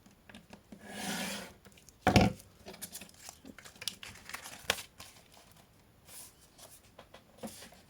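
Card paper is cut into pieces small enough to pass through a die-cutting machine, with soft rasping and rustling and a sharper crisp snip partway through, all close and fairly quiet.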